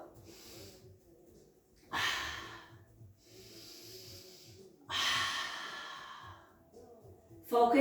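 Slow, deep breaths during Pilates heel kicks: two long, audible exhales spaced a few seconds apart, close and breathy, with quieter inhales and soft rustling between them.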